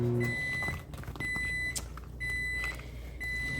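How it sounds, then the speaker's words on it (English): A microwave oven beeps in a repeating series of high tones over a low background hum, signalling it has finished, with no one talking. "as you can hear, the microwave is done"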